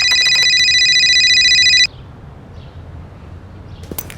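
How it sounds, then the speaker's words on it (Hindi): A telephone rings with an incoming call: a loud, steady electronic ring for about two seconds that cuts off abruptly, leaving quiet room tone with faint bird chirps. "फिर 1 घंटे बाद रंजीत ने कॉल किया मुझे"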